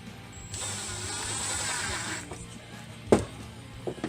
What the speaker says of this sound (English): I'm probably going to hand tighten this with a screwdriver, because I don't want to risk cracking this material right here